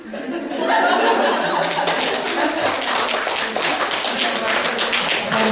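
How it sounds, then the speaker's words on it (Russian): Parents at a school celebration for mothers on March 8 applaud the child actors with dense, steady clapping from a sizable audience that swells after the first second and carries on throughout. "Аплодисменты нашим актерам, нашим талантливым детям."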